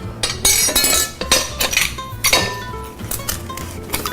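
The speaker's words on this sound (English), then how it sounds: "Put a little bit of butter in your bowl. That'll make the potatoes taste beautiful. And you want to mash those." Boiled potatoes get mashed with butter in a bowl, a loud irregular series of knocking, clinking strikes of the masher against the bowl, several per second, with no talking.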